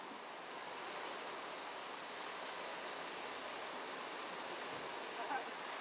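Rushing floodwater from Hurricane Irene in Quechee, a steady, broad roar of moving water that holds at an even level throughout, with no talk.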